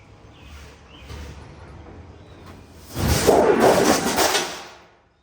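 A skoolie bus window panel drops and crashes onto the ground, a loud close whooshing thud and rattle after a few quiet seconds of faint handling noise, then it fades out with no talking.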